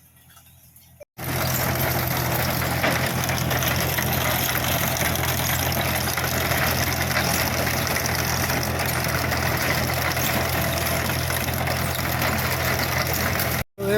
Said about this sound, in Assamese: এইফালে দেখিছে পূৰা ইয়াত ট্ৰেক্টৰ মাৰি আছে।